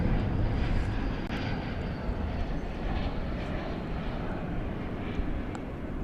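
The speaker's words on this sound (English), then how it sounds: "So there's the American flight from Portland." American Airlines jet from Portland landing at night at DFW Airport, a steady loud engine roar rolling on throughout without talk.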